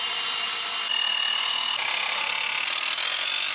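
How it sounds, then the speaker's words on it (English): A hand saw cuts steadily through the flange of a Jeep radiator, a continuous raspy back-and-forth sawing that stays loud and close throughout with no talk over it. "I'm sure this is the recommended way to trim your radiator."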